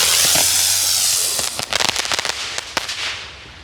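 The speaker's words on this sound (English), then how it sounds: "these aerial spinners are among the most unpredictable of all fireworks" Mad Bat aerial spinner fireworks go off in a quick, loud burst of crackling pops and sharp bangs, irregular and close, with a fizzing whoosh underneath.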